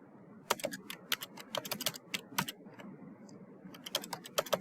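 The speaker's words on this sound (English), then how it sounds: "So I'm going to go ahead and type in purple." Brisk typing on a computer keyboard in a quiet room, with irregular bursts of sharp key clicks, a short pause midway, then another flurry of keystrokes.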